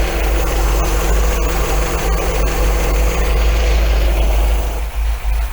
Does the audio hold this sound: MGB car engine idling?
yes